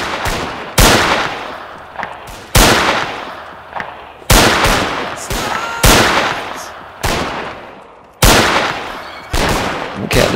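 Repeated gunshots in a Zulu Wars mod of a battle video game, sharp loud cracks roughly every one to two seconds, each with a decaying echo tail, firing alone without talk.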